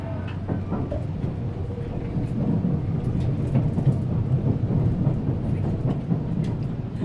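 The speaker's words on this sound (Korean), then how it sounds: "간사이 공항에서 라피트 특급 열차가 출발합니다." A Nankai Rapi:t limited express train pulls out of Kansai Airport, giving a steady low rumble and rolling noise throughout, heard from inside without anyone speaking.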